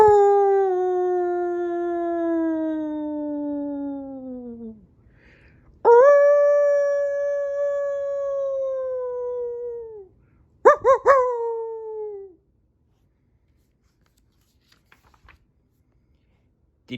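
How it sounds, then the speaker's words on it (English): Dogs howl on a foggy London night in a read-aloud story effect: a long falling howl, a second sustained howl after a pause, then short yelping cries, loud and clear against silence. "Dogs howled somewhere on this foggy night in London."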